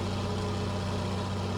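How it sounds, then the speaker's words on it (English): A big, growly diesel engine idling steadily and close, a constant low rumble with mild vibration and no voices over it. "Proper big growly diesel"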